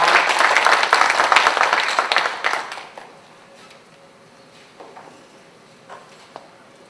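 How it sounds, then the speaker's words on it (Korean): An audience at a panel discussion on child abuse prevention gives loud applause to welcome the host, dense clapping for about three seconds that then fades into quiet room noise with a few faint knocks. "큰 박수로 맞이해 주시기 바랍니다"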